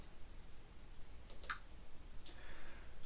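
A few soft, close clicks from a computer mouse at a Samsung DeX desktop, spaced sparsely against a quiet room hiss.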